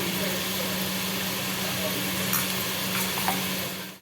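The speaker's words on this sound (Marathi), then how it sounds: "हा कांदा परतून घेते मी आता आणि थोडंसं आलं आणि लसूण टाकतो मी कांद्यामध्ये" Onion sautéing in a pan with ginger and garlic added, a steady soft sizzle with faint stirring scrapes near the end, low and continuous over a background hum.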